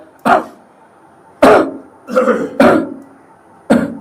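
Five sharp, forceful coughs, loud and close, spaced irregularly with short pauses between them and no talking.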